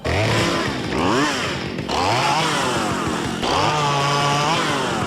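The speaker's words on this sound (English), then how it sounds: "She tugged a string and the chainsaw in her hands revved to life." A chainsaw revs loudly and repeatedly, its engine pitch climbing and dropping in several close, aggressive surges.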